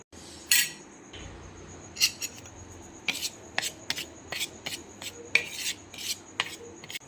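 A spoon scrapes and clinks around a bowl, mixing cornflour with salt, chili powder, garam masala and turmeric for egg biryani, giving a run of rhythmic rasping strokes and metallic taps close up, with no talk.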